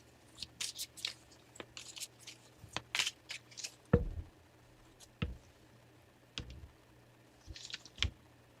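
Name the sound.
shuffling tarot cards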